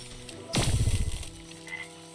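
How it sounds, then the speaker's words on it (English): A single frog in the video game Wytchwood gives one short, raspy croak over a quiet game background, then fades, with a faint high tone following. "Oh, I hear a frog."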